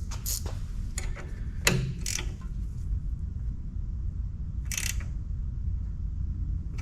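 Torque wrench tightening fittings on an F1 replica car, giving a few sharp ratchet clicks near the start and middle, then a brief click burst later, all over a low steady background rumble.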